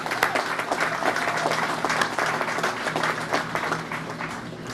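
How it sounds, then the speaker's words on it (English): Audience applause at a press briefing on National Guard flood help in the Mohawk Valley, sustained rapid clapping from a sizable crowd that stays even for several seconds. "let's give them a round of applause for the great work they do"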